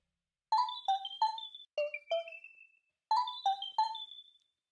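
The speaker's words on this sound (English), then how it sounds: "This is a patch in Omnisphere glass bowl pluck." Bright glassy synth plucks from an Omnisphere glass bowl patch play a short repeating melodic phrase of quick notes, each with a bell-like attack and brief ringing decay, clean and alone with gaps between phrases.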